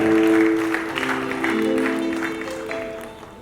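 Audience applause welcomes a singer onto the stage at a tribute concert, a moderate clatter of clapping over sustained musical tones that gradually fades.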